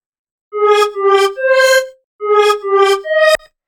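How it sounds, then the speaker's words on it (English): A dry wavetable synth melody for hard melodic techno with no effects, six short bright tonal notes in two groups of three, the last one cut off sharply, loud and alone with silence between phrases. "This is what it sounds like just straight out of the synth."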